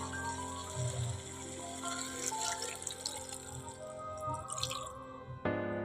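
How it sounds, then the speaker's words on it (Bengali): A little water is poured into spices frying in oil for a sea-fish curry, splashing and trickling steadily, then ending in a brief sizzling hiss near the end. "এবারে একটু জল দিয়ে দেবো দেখো অল্পই জল দেবো"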